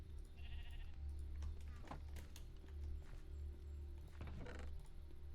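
In the Minecraft video game, a sheep bleats a few times over a low steady background hum, with someone speaking over parts of it.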